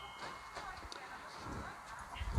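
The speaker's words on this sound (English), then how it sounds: "there's a horse going past" Soft clip-clop of hooves passing at a moderate distance, a steady irregular patter under low outdoor ambience with faint talking.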